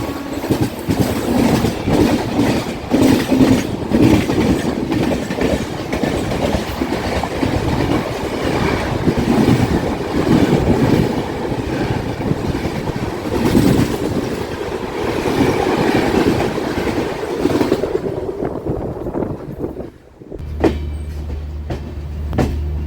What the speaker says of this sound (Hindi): वैशाली भैया भी यहाँ पे आ चुके हैं एकदम फुल रफ्तार से।